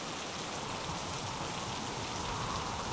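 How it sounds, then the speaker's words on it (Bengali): Heavy rain pouring onto a surface, a dense, even hiss of drops at moderate distance that holds steady throughout, with no thunder evident and no voices. "একটু পরে শুরু হলো তুমুল বৃষ্টি, সেই সাথে বজ্রপাত।"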